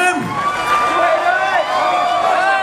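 A festival crowd at an open-air Midsummer folk event cheers and whoops. Raised voices and shouts overlap in a loud, lively burst.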